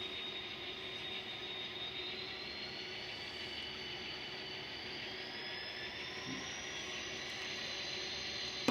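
A model locomotive sound decoder's diesel engine drones steadily, notching up, with a rising whine layered on top, holding a constant, moderately loud rumble throughout.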